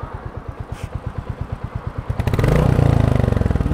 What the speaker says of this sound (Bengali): ইঞ্জিনের নকিং কি, ও মাই গড, সবচেয়ে সুন্দর সাউন্ড হয়ে লেগে বুলেটের।